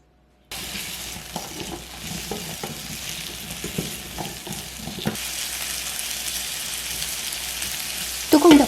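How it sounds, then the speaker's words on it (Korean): Carrots cut lengthwise sizzle and fry in an oiled pan with a couple pinches of salt while being stirred, a close, continuous crackle with scraping stir strokes and a louder burst at the end. "팬에 당근을 넣으시고요. 소금 2꼬집과 오일 약간 넣어 섞어줄게요."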